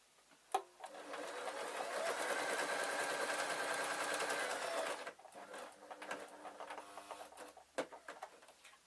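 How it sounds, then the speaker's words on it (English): A sewing machine stitches fur fabric for a hedgehog pyjama case. It runs in one steady whirring burst for about four seconds, then stops and starts in shorter bursts with light mechanical clicks. "I am going to sew the other point of my diamond on"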